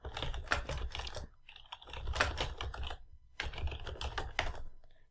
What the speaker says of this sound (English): So I'm going to just start typing.